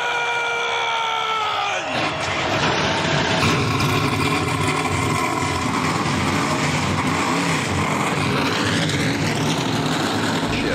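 NASCAR Gander Outdoors Truck Series trucks fire up for the 2020 championship race, a loud dense rumble of many engines starting and idling together, with revs rising and crowd cheers over the crackle.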